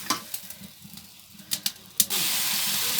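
Spices are sautéed and stirred in a pan over a clay stove, with scraping stirs over a soft sizzle, then a loud, steady hiss of frying takes over.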